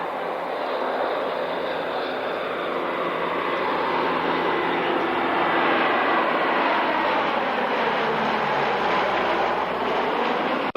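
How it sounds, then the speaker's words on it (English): Aircraft circling overhead at the 1996 Fairford International Air Tattoo airshow, a steady loud broadband engine roar that holds throughout with no pauses and no talk. "So the Mallard aircraft are going round again."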